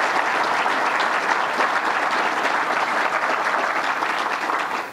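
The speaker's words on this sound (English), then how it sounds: "let's give them a round of applause for their great work" A large indoor audience at a governor's public event applauds steadily, dense sustained clapping filling the whole stretch before tapering slightly at the end.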